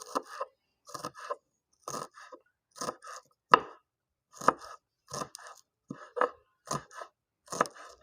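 A knife finely chops green onions on a cutting board for radish paratha, in about a dozen quick close bursts of rapid crisp taps separated by short pauses.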